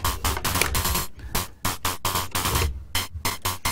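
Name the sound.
Schlappi Engineering Interstellar Radio fast audio modulation noises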